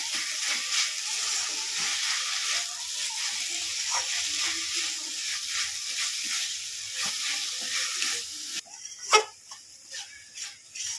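Sugarcane jaggery filling with small cardamom cooks in a pan, a steady close sizzle with soft stirring scrapes that gives way near the end to a few louder clinks and scrapes.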